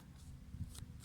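Tarot cards are handled with a few soft, quick papery slides and flicks, faint and close in a quiet room, over about a second.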